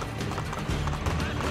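A horse gallops in the video game Assassin's Creed II, its rapid hoofbeats rolling over game sounds with a brief whinny-like cue, heard alone without talk.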